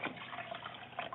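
Water running from a tap while rice is washed, a faint continuous splashing and trickling stream with small drips, steady and close, no voices.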